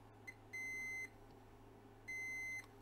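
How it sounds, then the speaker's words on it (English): Two steady electronic beeps from a multimeter continuity test, each about half a second long, spaced apart over a faint low hum in a quiet room. "When you hear a short beep like that,"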